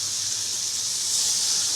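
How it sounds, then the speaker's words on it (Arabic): Two spoonfuls of water poured into a hot frying pan produce a strong, steady, bright hiss of steam and sizzling that holds loud and even throughout, with no voices. "هنحط معلقتين ميه"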